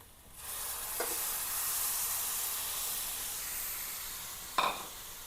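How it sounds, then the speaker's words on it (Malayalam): Coconut milk poured into a sizzling pearl spot fish gravy, producing a loud, steady hissing sizzle that swells in and holds, with a couple of faint utensil knocks. "ഇതിലേക്ക് തേങ്ങാപ്പാൽ ഒഴിച്ചു കൊടുക്കാം"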